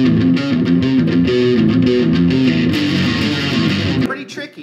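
A riff played on a distorted electric guitar, fast chugging palm-muted notes, loud and close, stopping abruptly near the end.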